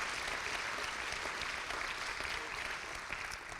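Audience applause at a charity event, a continuous, fairly soft roar of many people clapping at some distance, staying steady and easing off slightly at the very end.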